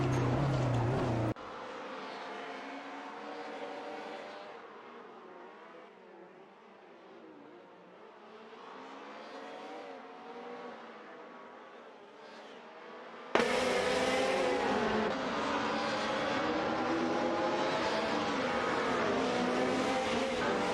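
Alfa Romeo 155 and Mercedes DTM race cars in a racing video game, engines droning steadily at mid distance, then a sudden louder, brighter burst of engine roar as the pack passes close, with no talk.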